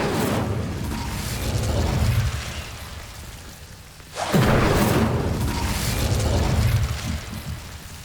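Incendio fire spell cast in the game Hogwarts Legacy: a sustained roaring, crackling rush of flame. It swells, briefly fades, then bursts back in with a sharp whoosh and keeps burning loudly.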